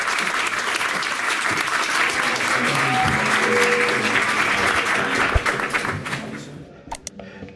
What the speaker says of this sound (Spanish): un aplauso por favor para el profesor